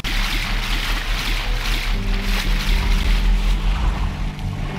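A Lego Marvel Super Heroes game character wades into water, a steady watery rush and splashing swell with a low rumble running underneath throughout, fairly loud and with no talk.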